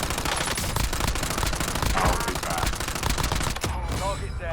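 Dense automatic gunfire from the Warzone video game rattles in rapid, continuous bursts, loud and close, with a brief pause near the end before more shots.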